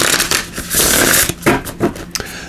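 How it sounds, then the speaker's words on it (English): Shaman's Dream oracle cards shuffled by hand, a run of soft, papery riffles and slaps coming in uneven bursts, close and fairly loud with no talking. "I'll give these a good shuffle"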